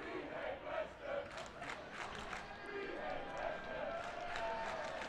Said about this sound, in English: a lot of the crowd are now expressing their displeasure at him with a chant.